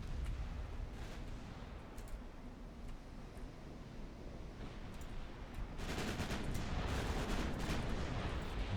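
Naval gunfire in the warship battle game Ultimate Admiral Dreadnoughts: a dull continuous rumble of distant cannon fire with sea noise, swelling into a denser, louder barrage of crackling shots in the later half, with no voices.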